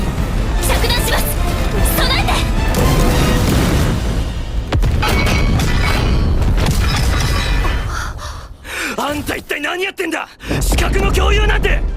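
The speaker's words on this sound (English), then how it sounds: "The first salvo is from '86 and is a mortar strike." A mortar strike salvo sound effect from the anime 86, with heavy booming impacts and crashing rumble filling the first half, then scattered quieter hits and dips before a final loud burst.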